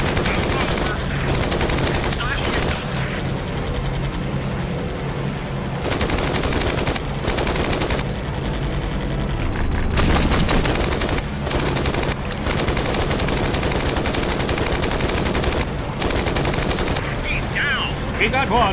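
Enemy aircraft machine guns firing in the Flying Tigers air combat game, loud long bursts of rapid fire broken by short pauses, with engine drone beneath.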